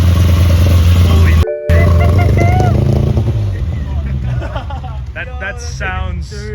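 A BMW E28 535i just rebuilt, its engine idling with a deep rumble, then rough revving and driving off with shifting engine tones, as people talk and exclaim nearby.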